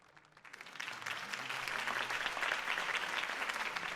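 A crowd applauds after a campaign speech in the Batman: The Telltale Series video game. The clapping builds quickly from a quiet start into sustained, dense applause that holds steady.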